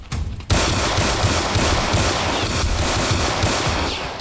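Roblox game gunfire in a hood roleplay game bursts in at half a second and keeps up as a loud, dense, continuous rapid-fire volley to the end, with no voices.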